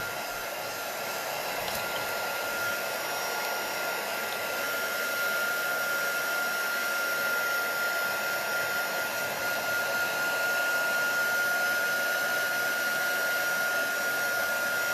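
A heat tool blows steadily on a handmade Thanksgiving card to dry it, giving a constant airy whir with a thin whine, even and unbroken throughout, no talking.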